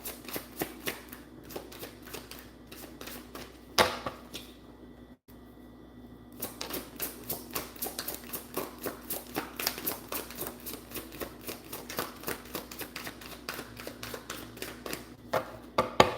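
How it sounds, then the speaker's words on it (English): Cards are riffled and bridged repeatedly up close, a dense crisp flutter with a short pause partway through, steady handling noise throughout. "I'm gonna give it 3 shuffles, y'all."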